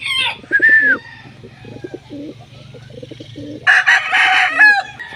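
Pigeons coo in a steady run of low, throaty pulses, close by, while a rooster crows loudly nearby near the start and again at the end.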